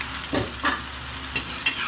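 Close, continuous sizzle of cauliflower frying in oil until reddened, broken by a few soft scraping stirs at irregular intervals.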